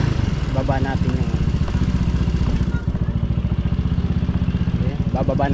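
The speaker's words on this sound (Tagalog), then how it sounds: "bababa natin yung motor" Motorcycle engine idling with a steady rapid putter while the bike is moved down a bridge or stairway to park, loud and close throughout, with people talking over it.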